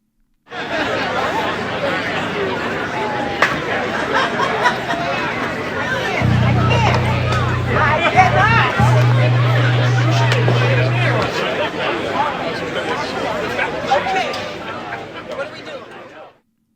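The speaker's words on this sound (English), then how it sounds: "That is the sound of setting up during Illumination Weekend this summer." Summer crowd chatter and hubbub at an outdoor setup during Illumination Weekend in Rockport, Massachusetts, a steady dense babble of many voices with occasional laughter, plus a low steady hum partway through.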